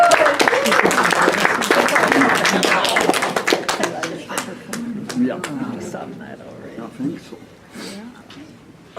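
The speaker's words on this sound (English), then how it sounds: "Everybody, a huge round of applause for" An audience at a friends' gathering applauds a nervous performer being called to the stage: dense, loud clapping at the start that thins out and fades over several seconds, with a voice and scattered chuckles coming through under it.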